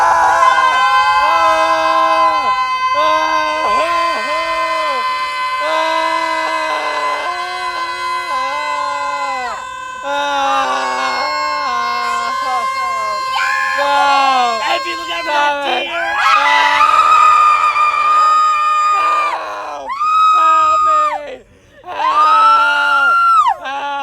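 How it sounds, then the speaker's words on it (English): Several people scream and shriek loudly and continuously for about twenty-four seconds, voices overlapping in sustained high wails with brief breaths, one short dip near the end. "And last topic is 30 seconds of screaming."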